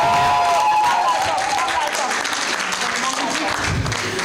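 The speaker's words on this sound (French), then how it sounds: "Il faut beaucoup applaudir." Audience applause at an opening conference on the feminist movement in Black Africa, a steady dense clapping held throughout at moderate level with a voice faintly heard under it.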